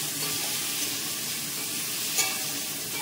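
Panch phoron spices tempering in a little hot oil make a steady close sizzle, a dense bright hiss with a faint clink near the end and no speech.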